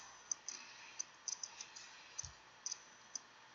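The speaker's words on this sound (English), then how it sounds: "First, I'm going to left click on blank document." A computer mouse clicks again and again while Microsoft Word 2016 is in use, a dozen or so faint, crisp ticks at uneven spacing against a quiet room.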